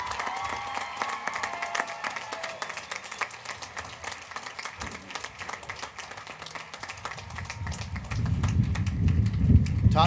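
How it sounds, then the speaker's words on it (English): A graduation audience in a large venue applauds the top ten scholars, a continuous wash of clapping that swells louder toward the end, with rumbling crowd noise and little speech. "let's give them a big round of applause"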